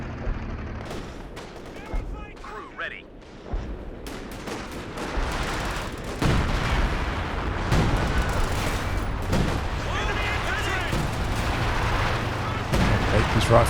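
Machine gun fire in a Company of Heroes 2 multiplayer battle, with rifle shots and distant artillery booms mixed in, loud and sustained, alongside commentators talking throughout.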